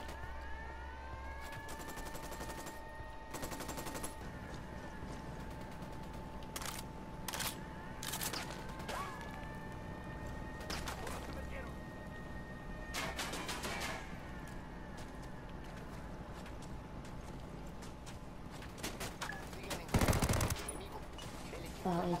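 Bursts of gunfire ring out in the video game Ghost Recon Wildlands, with sharp cracks and rapid volleys scattered over a steady droning background, fairly quiet overall and with a louder blast near the end.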